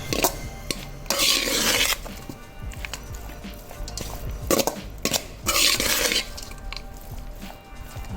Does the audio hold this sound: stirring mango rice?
yes